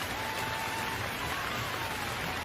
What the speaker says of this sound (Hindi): तभी जोरों की बारिश होने लगती है।